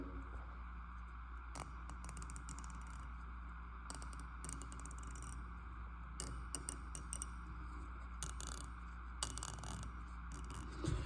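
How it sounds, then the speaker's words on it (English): A ratchet wrench clicks in quick, uneven bursts over a steady low hum, close by and fairly quiet, with no talking. "So I don't know if it's just like this specific ratchet that I got"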